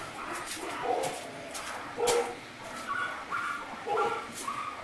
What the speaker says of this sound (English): Can you hear the dogs?